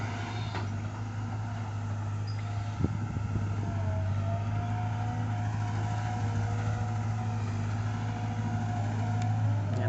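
Excavator digging soil on a farm plot in rural Thailand, its diesel engine droning steadily and loudly throughout, with a brief clank of the bucket partway through.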